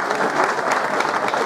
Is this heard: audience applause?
yes